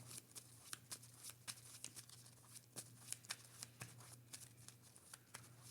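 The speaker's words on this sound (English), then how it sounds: "All these get shuffled up." Marvel Champions cards shuffled by hand in a steady run of crisp riffling snaps and quick papery bursts, close and clear with no voice over them.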